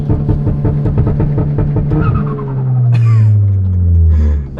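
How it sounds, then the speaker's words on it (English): A Stage 2 tuned, bagged VW MK7 GTI engine bounces rapidly against launch control, then revs rise and fall in long loud sweeps with a roaring exhaust, close by. "Jordan is activating the launch control on the cob access port"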